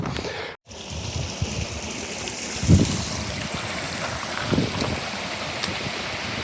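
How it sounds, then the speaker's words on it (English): Mountain stream water rushing and carving through rock near Broken Top, a broad, steady wash with a few low thumps, close and continuous, with no one talking. "This water, I mean, you can see it's literally carving the mountain out, right?"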